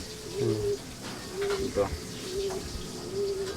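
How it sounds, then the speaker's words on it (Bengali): A female green Mechia pigeon coos close by: several low, resonant coos repeat at short intervals over a steady background hiss. "এই সবুজ মেচিয়া পায়রা মাদি পায়রা আছে এটা মাদি"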